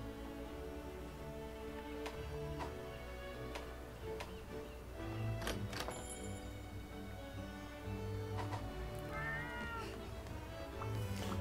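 A cat companion in Monster Hunter Rise meows several times in short, clear calls over quiet game music with faint ticking, no talking.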